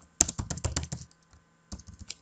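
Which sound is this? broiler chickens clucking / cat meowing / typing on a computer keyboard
typing on a computer keyboard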